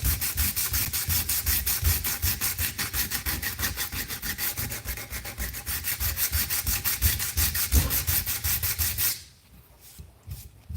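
A cheap guitar body being sanded by hand with 120 grit sandpaper, with steady, rapid back-and-forth rasping strokes that run loud and close for about nine seconds before stopping abruptly, leaving faint scattered handling noises.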